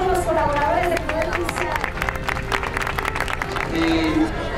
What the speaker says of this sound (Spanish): Un aplauso para todos los colaboradores del Poder